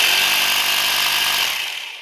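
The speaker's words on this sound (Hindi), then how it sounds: "अब ये 800 वाट की ड्रिल है, बेहतरीन चल रही है इसके ऊपर" An 800 watt electric drill runs on an Al Karam 2000 watt DC to AC inverter, a loud, steady, close high whine that holds for a couple of seconds and then begins to spin down.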